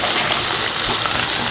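Capsicum and carrots sauté in a pan with a loud, close, continuous crackling sizzle and no pauses.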